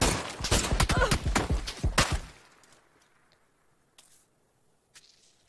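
A sudden volley of close gunfire in the battle royale game PUBG, several sharp loud shots crowding the first two seconds, then near silence broken by a couple of faint distant cracks.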